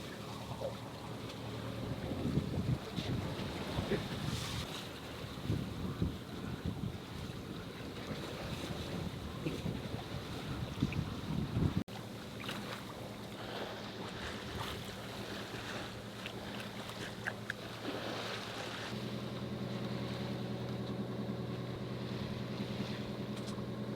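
A 40ft sailboat motoring across a dead calm sea off Mexico, its engine droning steadily throughout with a constant hum of wind buffeting the microphone and faint water wash, no voices.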